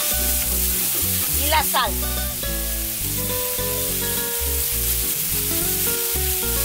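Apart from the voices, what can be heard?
sofrito (refrito) frying and sizzling in a pan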